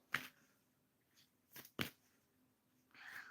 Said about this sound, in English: So I'm shuffling more cards for you,